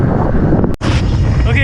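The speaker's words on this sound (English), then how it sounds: "I'm riding into a headwind right now" Strong headwind buffets the microphone while riding a Windone K20 electric bike, a loud continuous rumbling roar broken by a brief dropout.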